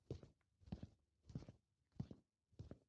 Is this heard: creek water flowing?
no